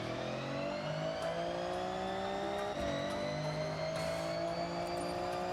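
A car engine in the Forza Horizon racing game holds a steady, high revving drone with layered harmonic whine and brief shifts in pitch, loud and continuous throughout with no talk.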